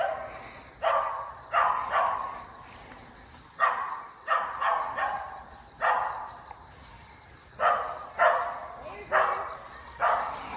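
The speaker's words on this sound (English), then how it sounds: "he barked long enough" A hunting dog barks at an animal it has treed in the woods, a few sharp barks at a time with short pauses between bursts. The barks sound moderately distant over a steady high hiss of insects.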